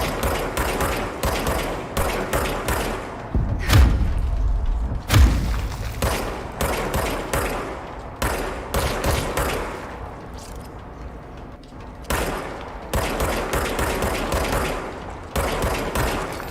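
Repeated bursts of rapid gunfire from the video game Control, loud and close, come in clusters separated by short gaps, with a few heavier booming thuds among the shots.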